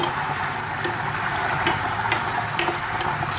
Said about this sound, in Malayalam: തിളച്ച് തുടങ്ങിയിട്ടുണ്ട്.